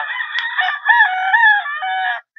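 A brood cock rooster crows once, close and loud, a single long harmonic cock-a-doodle-doo lasting about two seconds before cutting off into quiet.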